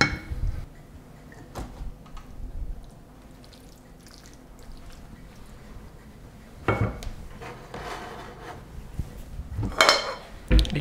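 Pasta carbonara is plated with a few separate clinks and knocks of utensils against dishes, spread out over quiet kitchen background with no talking.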